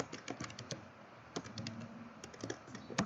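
Rapid typing on a computer keyboard while coding GTA V mods, with crisp, irregular key clicks heard close and quiet, pausing briefly now and then, with no voice.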